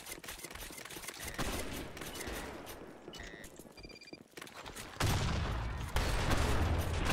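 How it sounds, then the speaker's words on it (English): Gunfire in the Blackshot online shooter during a clan war match, with dense bursts of shots throughout and a louder, heavier blast near the end consistent with a pump shotgun firing close by. "It's a pump shot."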